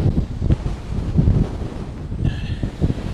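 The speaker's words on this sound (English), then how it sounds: "It is really windy" Strong wind buffets the microphone at a stormy beach with high waves, a steady loud rumbling roar with gusty surges and no talking.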